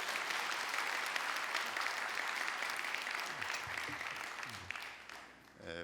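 A church congregation applauds to welcome a visiting pastor at a Sunday service, a steady wash of many hands clapping that thins out toward the end.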